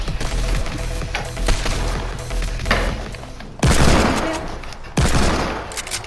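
Rapid bursts of gunfire crackle in dense volleys, with heavier blasts hitting loud and close; no talking.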